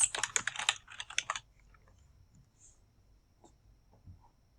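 Brisk keyboard typing on a computer while someone enters a slide title, a rapid burst of close, clicky keystrokes lasting about a second and a half before falling to quiet room tone with a couple of faint clicks.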